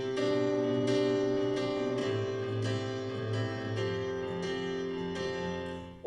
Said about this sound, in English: we're gonna have some money patterns that might sound like this